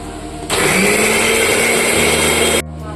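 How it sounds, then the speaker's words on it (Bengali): A mixer grinder whirs loudly and steadily for about two seconds as it grinds coriander leaves, green chillies and curd, starting abruptly and cutting off sharply, with a quieter background before and after. "এটাকে আমরা ভালো করে মিক্সিতে গ্রাইন্ডিং করে নিচ্ছি"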